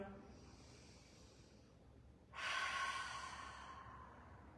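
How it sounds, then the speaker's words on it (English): A slow breath drawn in through the nose, then a louder, airy exhale through an open mouth during a gentle morning stretching routine, close and soft. "let's inhale through the nose, open mouth, exhale."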